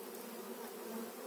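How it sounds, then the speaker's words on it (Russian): Honey bees buzz steadily and close by at the hive entrance while a swarm is gathered from the ground, a dense, unbroken hum with no voices. "Так, пчелки идут, куда им положено."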